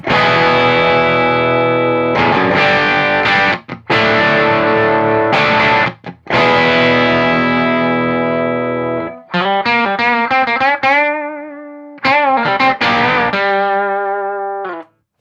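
An electric guitar through a Rangemaster treble booster pedal, bright and nasal: gritty sustained chords, then a run of single-note phrases with bends, loud and up close.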